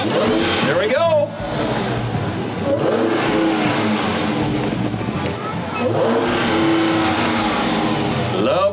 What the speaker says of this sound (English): Love the sound of that Hemi.